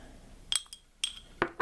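A glass bowl is set down with a few bright clinks: a pair of taps, a single knock, then two more ringing glass contacts close together, loud against a quiet room.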